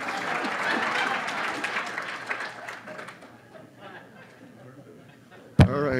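Applause at a weekly club meeting swells near and dense at first, then thins and fades as the crowd murmurs, ending with a sharp thump close by.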